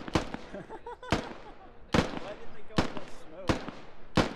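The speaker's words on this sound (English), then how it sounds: "hear all the shots being fired" Six sharp, spaced gunshots crack out in the Squad video game, each a loud close report with a decaying tail, while voices chatter faintly in between.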